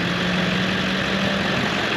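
A steady, close motor hum as electric motorized roller skates start off, worked by a small wireless remote, a constant whirring drone with a low tone running throughout.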